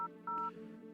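Telephone keypad tones beep twice in quick succession on a phone in a horror video game, clear and close against a quiet, faintly humming background.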